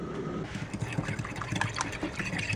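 Hot water poured into a cup of sugar crystals, a soft splashing and trickling stream at close range, fairly quiet, with faint clinks and low voices beneath.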